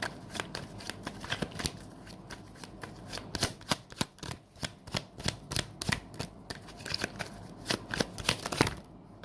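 Tarot cards are shuffled by hand, close and crisp, with repeated riffling snaps and slaps in an irregular rhythm throughout, no speech.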